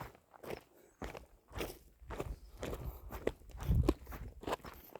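Footsteps cross a 60-foot hanging bridge on a mountain hike in Fiss, Austria, a run of uneven close treads with soft creaks and crunches, getting a little louder toward the end, with no talking.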